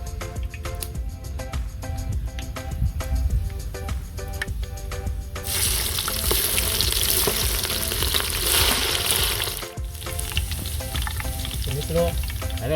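Dried red chilies, cloves and cumin temper in hot oil, a loud sudden sizzle that bursts in midway and keeps crackling steadily after a stretch of background music.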